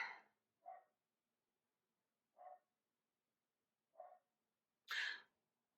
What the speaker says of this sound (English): you can hear my dog in the background.